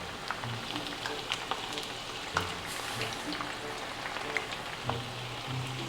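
Korean fried chicken fries in a skillet with a steady, dense crackle and sizzle, sharp pops scattered throughout.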